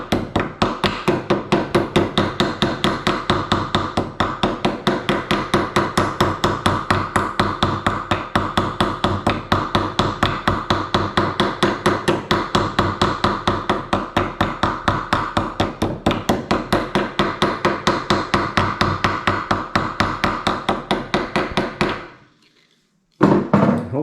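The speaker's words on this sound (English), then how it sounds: "we're just going to slowly tap this, working around in circles" A ball peen hammer taps a round head rivet in a rapid, even series of sharp metallic strikes, loud and close, continuing for over twenty seconds before stopping abruptly.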